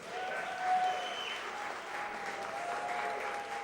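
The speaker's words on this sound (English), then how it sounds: "Big round of applause for Brandon Allen." Crowd applauding an arm-wrestling competitor, Brandon Allen, after a supermatch; a steady, fairly distant wash of many hands clapping that swells briefly near the start and then holds even.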